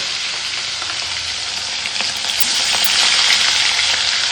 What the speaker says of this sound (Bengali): চলো কড়াইতে দিয়ে দিই ঠাকুরের নাম করে